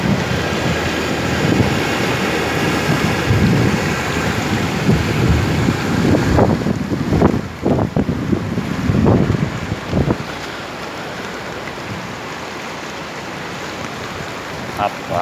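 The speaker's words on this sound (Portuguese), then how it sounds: "chuva forte da velha" Heavy rainstorm in Remanso, Bahia, a dense, loud, steady wash of rain and wind noise with brief louder bursts midway, a voice briefly audible in the clip.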